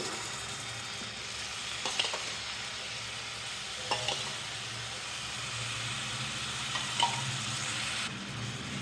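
Yogurt stirred into potato kurma over a low flame: a continuous gentle simmering hiss, with a few light scrapes and knocks of the spoon against the pot.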